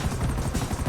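A helicopter in GTA 5 Online, a steady close rotor thump and engine roar filling the moment without pause.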